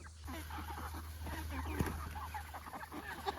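Cornish cross meat chickens in an electric poultry net cluck and chatter steadily at close range ahead of feeding, with a faint hum and scattered rustling beneath the birds.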